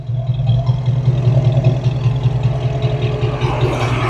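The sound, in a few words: cooling fan running on Foxbody Mustang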